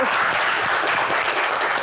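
Audience applause at a live Q&A and game event, a steady, full wash of clapping from a crowd, continuous and fairly loud throughout.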